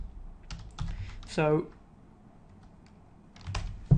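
Computer keyboard typing while setting up email autoresponder rules, with scattered clicks and key taps around a short spoken word, close and moderately quiet.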